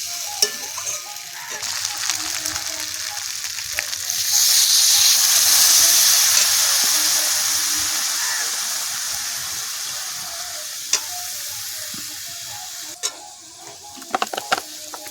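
Water poured into frying ridge gourd and potato posto sets off a loud, rising hiss and sizzle that swells for several seconds, then slowly fades to a gentle simmer with a few clinks.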